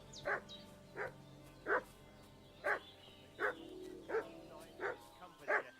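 Dog barking in the medieval village setting of the video game Kingdom Come Deliverance: about eight sharp barks in a steady, evenly spaced rhythm at moderate distance, over quiet game ambience.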